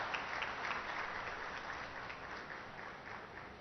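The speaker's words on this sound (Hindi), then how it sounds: "तालियों की गड़गड़ाहट से इनका उत्साहवर्धन हो।" Muffled applause from an audience at a public event attended by government ministers, a dense, continuous clapping wash heard at a distance and fairly faint, without speech.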